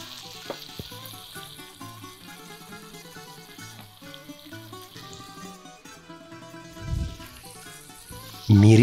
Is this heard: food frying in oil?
yes